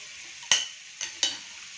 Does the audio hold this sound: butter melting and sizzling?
yes